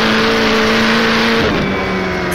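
A 1937 Grand Prix race car in rFactor runs at a loud, steady high rev, then drops in pitch at a gear change or lift before carrying on close up, with no other sounds.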